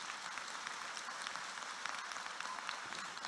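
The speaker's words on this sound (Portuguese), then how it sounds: "Se é para o Senhor, pode aplaudir com força." A church congregation applauding during a sermon, dense even clapping from many hands, fairly soft and distant, running steadily throughout with no one speaking over it.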